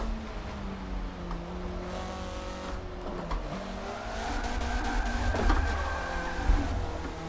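Spec Miata MK5 race car in a sim racing game, engine note held in the wrong gear with a steady buzzing whine that rises and falls, tire squeal and sliding noises building toward the end, no talking.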